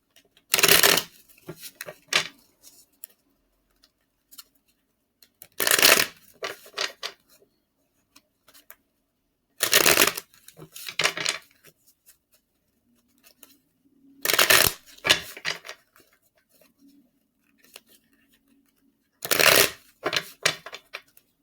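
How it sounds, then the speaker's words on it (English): Tarot card shuffling in five distinct bursts, each a quick riffling flutter lasting about a second, separated by quiet pauses with faint rustling. "Let me go ahead and shuffle the cards."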